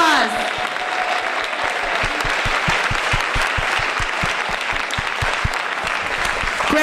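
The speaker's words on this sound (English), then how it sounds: "Let's give first-year people a round of applause." An audience at a spring school band concert claps for first-year band members, a steady round of applause with many hands close and distinct, continuing evenly throughout.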